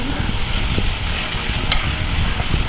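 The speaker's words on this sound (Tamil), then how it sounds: "இதையும் அப்படியே வதக்கிப்போம்" Small tomato pieces sautéing with spiced onions in a pan for South Indian poricha kulambu, giving a loud, steady close-up sizzle and hiss with soft stirring scrapes throughout.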